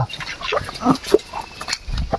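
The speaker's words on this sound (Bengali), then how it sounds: "দেখা পাম কত বড় দেশি হাঁস" A few nasal quacks from a large local country duck near at hand, brief and scattered, with some background voices.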